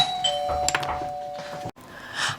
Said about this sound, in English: Yes, the doorbell went